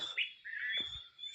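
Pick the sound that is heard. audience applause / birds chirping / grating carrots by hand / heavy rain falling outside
birds chirping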